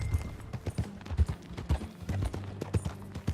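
Horse hooves clip-clop at a walking pace in Red Dead Redemption 2, a steady series of close, distinct thuds with faint background ambience.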